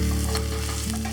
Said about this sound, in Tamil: அடுத்து ஒரு 4-5 கருவேப்பிலையும் போட்டு இதோடு சேர்த்து ஃப்ரை பண்ணிக்கோங்க.